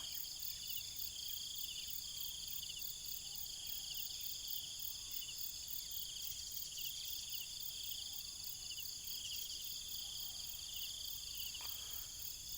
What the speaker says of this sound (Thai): มีเสียงจิ้งหรีด มีเสียงนก ร้องด้วย